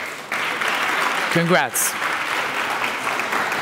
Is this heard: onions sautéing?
no